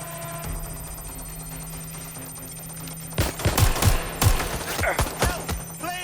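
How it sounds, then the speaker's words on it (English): Video-game gunfire in Watch Dogs: Legion, a series of sharp automatic bursts erupting after a quiet stretch, close and loud, rattling in clustered volleys over about three seconds. "Covering fire!"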